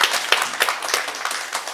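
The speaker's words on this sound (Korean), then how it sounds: "박수 한번 쳐주세요." An audience at a mind-study class meeting claps after a member's presentation, a dense, steady round of applause from many hands throughout.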